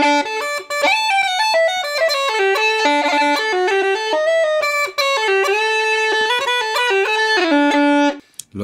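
Uilleann pipes chanter playing a melody alone, bright and reedy with rapid ornamented note changes, a continuous loud line that stops abruptly near the end.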